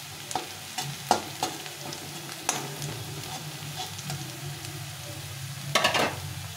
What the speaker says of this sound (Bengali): এভাবে করে পেঁয়াজ রসুনটা ভালো করে ভেজে নিতে হবে